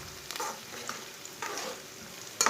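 Onions browning in a pan, a close steady sizzle broken by a few scraping strokes of a spoon stirring, with no talking.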